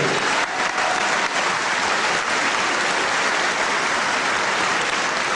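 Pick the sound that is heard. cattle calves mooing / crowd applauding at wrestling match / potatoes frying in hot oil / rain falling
crowd applauding at wrestling match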